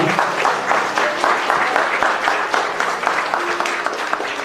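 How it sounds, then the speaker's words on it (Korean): Wedding guests at a Korean-Vietnamese international marriage ceremony applaud the couple, steady dense clapping from a sizeable crowd throughout, with no talk over it. "큰 박수로 두 사람을 축복해 주시기 바라겠습니다."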